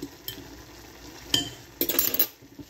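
Corn cooks in a pot while a utensil stirs it: a soft background hiss with a few sharp metallic clinks and scrapes, then a louder cluster of scraping near the end, close and quiet, no talking.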